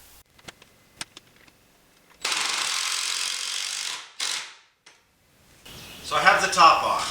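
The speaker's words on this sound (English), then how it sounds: "I'm going to run 6 screws in up through those stiles. These are actually 4-inch deck screws." A drill driving 4-inch deck screws up through the stiles of a treated-wood hexagon planter box, heard as two sustained whirring bursts after some scattered clicks and taps, with a voice talking at the end.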